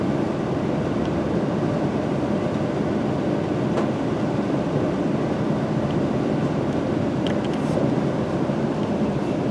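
London Midland class 350 electric train departing Stafford station: a steady, rumbling drone of the train moving off, constant and moderately loud throughout, with a few faint clicks on top.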